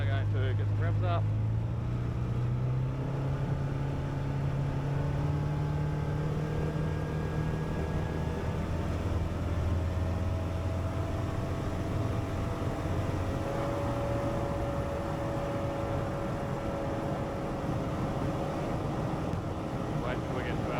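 A small aircraft engine revs up before takeoff in the outback, a steady droning hum with shifting pitch throughout, and a person talking over it.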